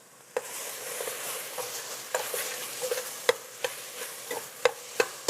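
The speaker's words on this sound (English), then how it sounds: "Again, give it a quick stir." Meat browns and onions caramelize in a pot with cilantro for East African pilau, making a continuous sizzle. A utensil stirs through it with scraping strokes and several sharp taps against the pot.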